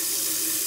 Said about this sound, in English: first you need to fill up your pot of water.